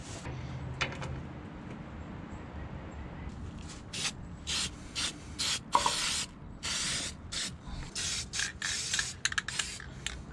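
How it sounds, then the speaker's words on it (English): Spray paint hissing in short bursts onto a dump bed alarm mount during a Peterbilt 359 truck install, several close, intermittent sprays separated by brief pauses over low background noise. "Hit it with some paint."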